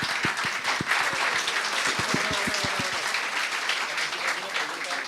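A small audience at a book club gathering claps together, a quick run of a dozen or so sharp hand claps that blend into a brief smattering of applause over room murmur, without clear speech.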